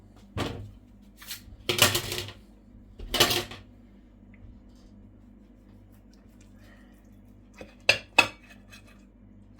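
A large knife cuts through an olive-oil stuffed pepper on a plate, giving a few separate clinks and scrapes against the dish with quiet gaps between them, close up and moderately loud.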